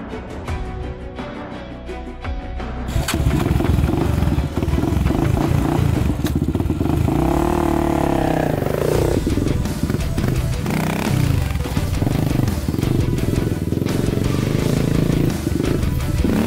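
A Honda 400ex ATV on a test ride after a tire pressure change, the engine idling at first, then loud and close, revving and roaring continuously with clattering and rattling from the machine.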